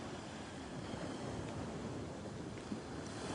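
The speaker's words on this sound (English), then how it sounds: "those waves just keep crashing against the shore" Ocean waves crash against the shore as a steady, broad wash of surf with wind, soft and distant-sounding, unbroken throughout with no distinct individual breakers and no voices.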